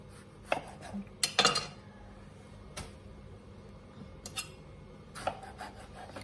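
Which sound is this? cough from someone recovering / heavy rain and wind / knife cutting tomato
knife cutting tomato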